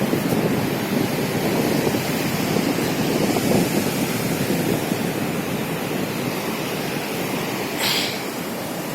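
Sea waves at old Digha beach wash in as a continuous broad roar of surf, steady and moderately loud, with wind buffeting the microphone and no voices.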